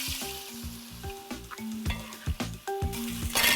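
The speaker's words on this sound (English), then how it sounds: "Now in the same oil, we're going to add cubed tomatoes." Cubed fresh tomatoes hit hot oil in a cooking pot, giving a steady, crackling sizzle with intermittent clinks and stirring scrapes close by, no one speaking.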